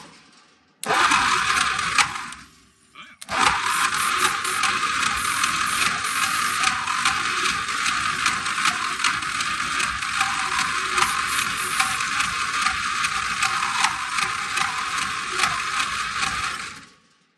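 A 1933 Dodge truck engine cranks with a loud, rapid mechanical clatter that starts, stops briefly, then runs on steadily for over a dozen seconds without catching. There is no talking.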